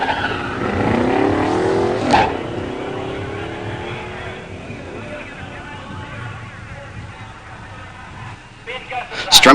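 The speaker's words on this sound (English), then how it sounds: "In the near lane, Gary Strempel's 85 Mustang 302 5-speed. In the far lane, Jim Reese in an 86 Grand National." An 85 Mustang 302 five-speed and an 86 Buick Grand National launch side by side at a drag strip, loud engines roaring and sweeping up in pitch before fading, with an announcer talking over them.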